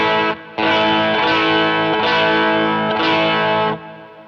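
Electric guitar through an Orange Getaway Driver drive pedal at a low gain setting, playing loud, dense, lightly distorted chords close up, with a brief gap near the start and a fade as the last chord rings out.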